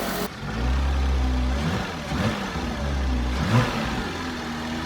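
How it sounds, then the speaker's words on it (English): A Porsche Boxster S engine runs steadily nearby, its idle swelling briefly, with a thin high whine from a power steering pump low on fluid riding over the rumble. "Sounds really good aside from a whiny power steering pump"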